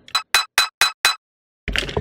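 A processed Bolt Lock 3 sample, high-pass filtered and saturated, rings out as five evenly spaced bright metallic clinks, then a short pause and a denser, rougher metallic burst at the end, close and clear with no talk.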